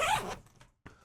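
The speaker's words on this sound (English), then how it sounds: "it uses high quality zippers with custom pullers right on them" A high-quality zipper with a custom puller on a JackPack Glide XL bag is pulled in one fast, close rasping stroke, followed by a couple of faint handling clicks.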